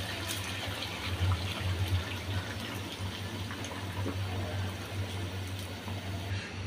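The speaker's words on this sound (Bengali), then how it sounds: "এখন উতরানো গরম পানি দিয়ে দিচ্ছি" Hot boiling water pours steadily from a vessel into a pot of chicken curry with cucumber and potato, a soft continuous gush with a low hum beneath, fairly quiet and without talk.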